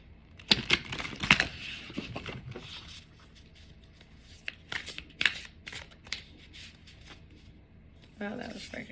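A hand shuffles a deck of oracle cards near the microphone in quick riffling bursts, pausing between rounds, while someone talks softly over and between them.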